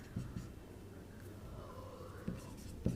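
Pen or chalk writing during a class 10 trigonometry lesson, a few brief faint scratching strokes in a quiet room.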